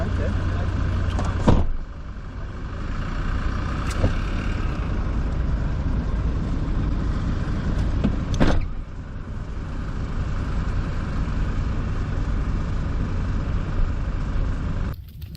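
A vehicle climbing a sand dune in the Simpson Desert, a steady engine drone with wind noise throughout, broken by a few sharp knocks and clunks, while people talk over it.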